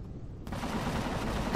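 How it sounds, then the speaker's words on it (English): Bursts of rapid automatic gunfire in the Empyrion video game start abruptly after a quiet moment and continue as a dense, steady rattle to the end. "start shooting now"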